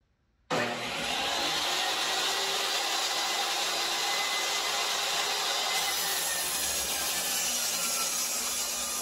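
A table saw cutting wood as a board is flipped to cut off the other side: the blade spins up abruptly and a loud, steady whine with a rough rasping cut carries on unbroken, close and alone.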